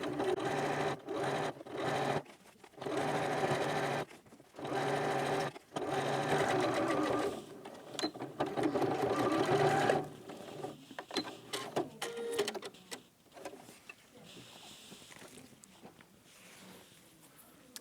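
A sewing machine top stitching a tote bag opening shut, running in short repeated bursts separated by pauses, then slower, lighter stitching that trails off toward the end, close and clear with no talk.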